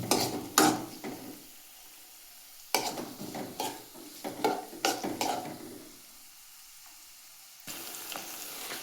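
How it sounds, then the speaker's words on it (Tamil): Onions and green chilli sizzle in a hot pan while being stirred, with a steady frying hiss broken by repeated scraping, clattering stirs in uneven bursts close to the listener. "வெங்காயம் நல்லா வேகிற வரைக்கும் கொஞ்சம் நல்லா தாளிச்சுக்கோங்க"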